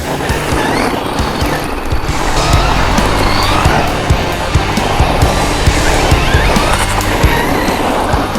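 An MJX Hyper Go 16212 RC truck drives hard over rough ground. Its motor and tires make a loud, continuous roar and rattle, with grinding and clicking bursts throughout the run.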